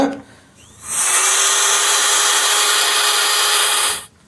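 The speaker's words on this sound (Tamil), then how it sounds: "இப்போ என்ன பண்ணணும்னா இதை ட்ரில்லிங் போட்டுரும் நம்ம" A power drill drilling a metal pipe whirs loudly for about three seconds, a steady high grinding whine that starts abruptly after a quiet moment and cuts off at the end.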